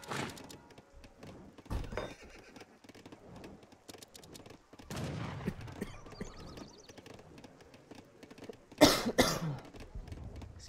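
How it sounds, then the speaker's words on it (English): A man coughs a few times in short bursts amid the busy sounds of an Age of Empires–style strategy game with battle effects, the coughs loud and close against the game noise. "Still getting over a little bit of a cough over here."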